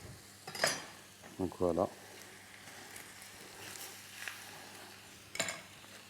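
Kebab meat pieces searing with onion and garlic in a hot pan give a soft, steady sizzle, broken by a few stirring clatters of utensil against the pan and brief speech.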